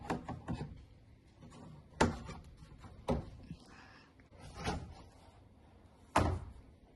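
Hinged doors on a transparent plastic dog playpen for small pets bang and clatter shut several times, sharp knocks at irregular intervals with softer rattles and handling noise between, close by.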